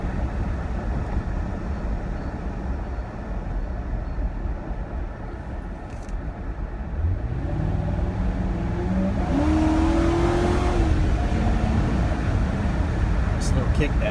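A Ford Crown Victoria Police Interceptor drops a gear on a night drive, the engine note climbing from a steady cabin rumble into a rising rev as the transmission kicks down, heard from inside the car.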